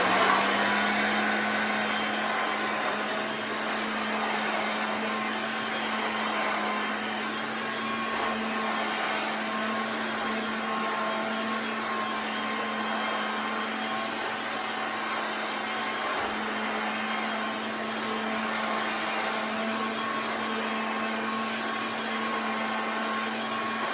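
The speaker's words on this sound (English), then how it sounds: "here is the little 1978 Hoover Junior, or lightweight upright, model" A 1978 Hoover Junior lightweight upright vacuum, model U1025, runs with a steady, loud motor whine and airflow rush that holds constant the whole time, with no voices over it.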